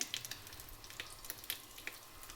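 Mustard seeds, dried chillies and curry leaves fry in oil for a tempering, making a faint, crackling sizzle dotted with small scattered pops and spits.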